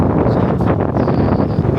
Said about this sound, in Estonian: Tuul tõuseb, ma ei tea, kas on kuulda, kuidas tuul tõuseb